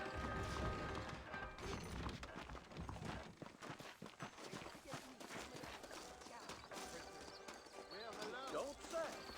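Horse hooves clip-clop in a steady walking rhythm beneath Red Dead Redemption game music and ambient noise, with an occasional whinny; someone talks over it.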